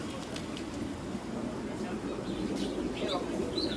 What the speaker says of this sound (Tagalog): So, ito lahat yung mga ibon nila.